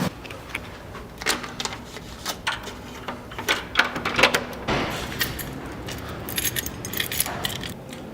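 An apartment door is shut while keys jangle and clink in a series of irregular metallic rattles and knocks, close and fairly loud against a quiet indoor background.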